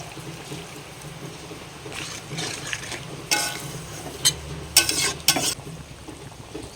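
Previously boiled water hits a pan of lightly fried papaya and potato curry, a low frying hiss giving way to bursts of loud splashing sizzle and scraping stirring strokes near the end.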